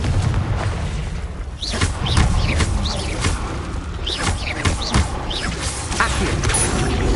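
Confringo fire spell blasts in Hogwarts Legacy gameplay, with repeated booming explosions and crashes rising over a dense, continuous roar of battle effects and a rumbling low end, close and loud throughout.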